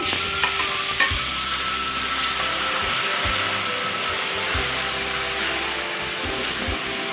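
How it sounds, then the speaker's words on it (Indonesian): Steady, loud sizzling of chilies frying in hot oil, a constant hiss with occasional soft stirring clatter, no voices. "Kita goreng cabenya sampai masak."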